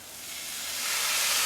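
Soy sauce hitting a hot pan of keto egg roll bowl vegetables with ginger gives a steady, broad hiss that swells slightly louder, close and alone without talk.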